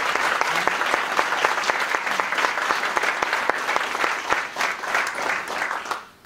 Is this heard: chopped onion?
no